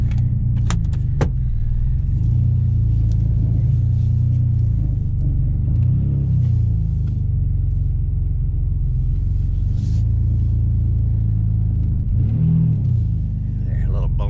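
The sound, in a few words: Mustang mud truck engine with misfire idling and revving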